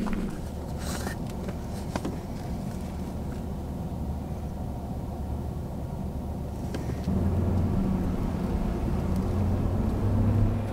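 A vehicle rolls along a forest road in British Columbia in spring, with a low continuous rumble and rattle that grows slightly louder partway through, and no voices.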